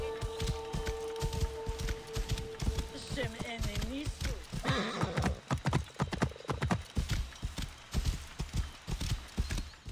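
Horse hooves clip-clop in a steady galloping rhythm in Assassin's Creed Origins, set outside Siwa, with a brief whinny and some game sounds mixed in near the middle.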